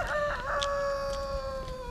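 A rooster in a quiet village in northern Kosovo crows one long, clear cock-a-doodle-doo at mid distance over a faint low background hum, with no talk.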